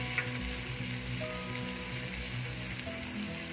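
Cauliflower sizzles in a pan with onions for pav bhaji, a steady, soft frying hiss that stays faint and continuous with no talking.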